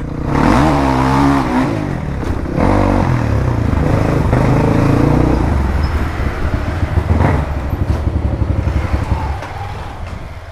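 A dirt bike descends a rough, risky mountain road near Beni in Parbat, Nepal. Its engine rumbles loud and close, rising and dropping in revs, with rattling clatter from the bumpy ride.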